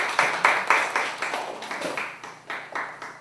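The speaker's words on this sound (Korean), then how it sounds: "감사의 박수 드리겠습니다." A church congregation claps in thanks during a worship service, a brief round of moderate applause with about a dozen distinct claps in an uneven rhythm, fairly close by, with no talking.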